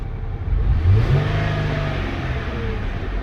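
A 2008 Dodge Charger engine running with a short rev near the start that settles into a steady mid-pitched idle rumble, heard close and fairly loud with no talking.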